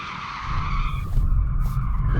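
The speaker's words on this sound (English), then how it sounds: "Before we race, we should probably warm up the tyres." A BMW M8 in rear-drive-only mode spins its tyres to warm them, a loud screeching squeal over a low engine roar that rises and holds for a couple of seconds.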